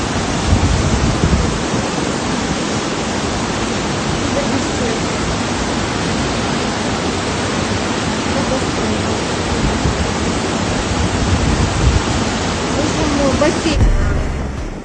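Flash floodwater surges through the streets of Burgas, Bulgaria, a loud, unbroken broadband roar of rushing water that holds steady for the whole stretch, with a voice faintly present beneath it.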